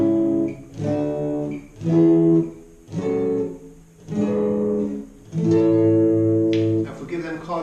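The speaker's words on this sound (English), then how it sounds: "you can come up with a group of chords and it sounds like this" Chords built from a harmonised major scale, played as a slow sequence of sustained chords, each ringing out in turn with brief gaps between, moderately loud and alone.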